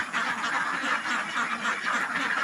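Egg-laying ducks quack in a noisy, overlapping chorus, close by and continuous, with no talking.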